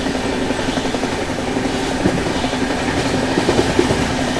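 The Andhra Pradesh Express, running from Visakhapatnam to New Delhi, rumbles past close by in a steady, loud roll, with faint clickety-clack of the wheels and a few sharper knocks near the end.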